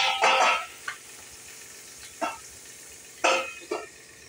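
Red amaranth greens frying with onion, garlic and green chili, giving a soft steady sizzle broken by a few separate stirring scrapes in bursts, fairly close and alone without talk.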